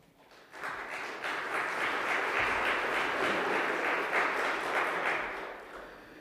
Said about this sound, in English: He got applause for that?